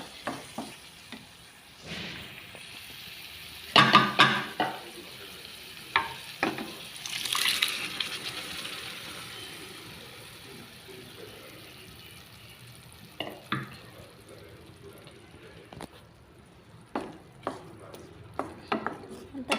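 Cooked dal is stirred into a soft eggplant and tomato curry, giving irregular scraping and clinking strokes of a spoon against the pot over a faint simmer, with quiet gaps between bursts.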